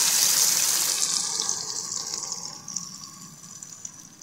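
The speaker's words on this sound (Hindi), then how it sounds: "अब इसमें हम दही जिसमें पानी मिला के डाल देते वो हम डाल देंगे।" Yogurt thinned with water poured into a pan over golden fried ginger and garlic while making besan altay paltay, a loud splashing pour that gradually softens into a lighter, trickling flow.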